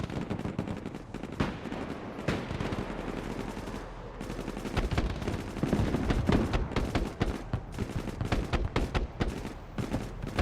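Dense gunfire in the military video game Broken Arrow, rapid machine-gun bursts mixed with single shots and heavier booms, loud and continuous over ten seconds with no pauses.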